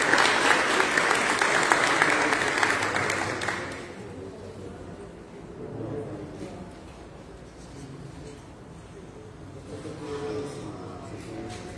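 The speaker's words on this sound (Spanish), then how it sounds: "Un aplauso entonces para Sara Sierra." An audience at a youth animal-rights speakers' event in Envigado applauds loudly for about four seconds, then the clapping fades into a low murmur of the room.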